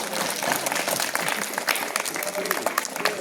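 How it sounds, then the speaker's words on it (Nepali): A school crowd gives a sustained round of clapping for students at a tracksuit distribution event in a village school, dense and fairly close, with voices mixed in beneath it. "विद्यार्थी भाइ बहिनीहरूलाई पनि ताली ठोकेर एकदम धन्यवादको साथ"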